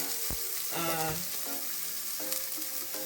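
Chopped onions and minced garlic fry in olive oil with a soft, steady sizzle and a few sharp clatters of stirring; faint background music sits underneath the quiet frying.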